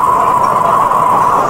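A bullet train running at about 345 km/h through a mountain tunnel gives a loud, steady rushing roar with a strong droning hum inside the carriage.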